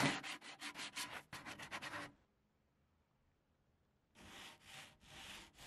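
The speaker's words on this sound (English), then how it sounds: "I'll start sanding with the block so I can take off some of the bigger splinters here" A sanding block rubs back and forth over rough splintered wood in quick rhythmic strokes, close and scratchy, then stops for about two seconds before a few slower strokes resume; no talking.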